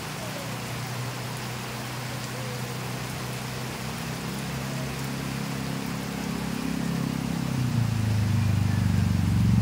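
Heavy rain pours steadily over a flooded area in front of a house in the Philippine provinces, a dense continuous hiss that swells louder toward the end, with faint vehicle-like rumble underneath.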